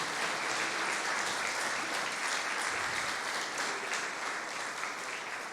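Sustained applause from a church congregation during a prayer service, a dense, even patter of many hands clapping at moderate volume throughout, tapering slightly at the end, with no speech.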